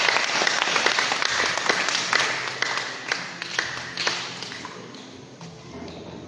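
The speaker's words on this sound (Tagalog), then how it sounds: "Sige po, natin tipunin ang ating palakpak sa ating Panginoon." Congregation applauding at an evangelism crusade in Dipaculao, Aurora, a sustained crowd of clapping hands that fills the room and slowly thins toward the end.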